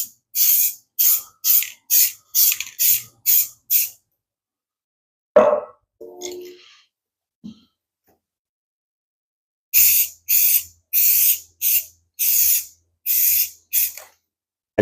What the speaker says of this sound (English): I did get a little overspray that went up onto the next stripe over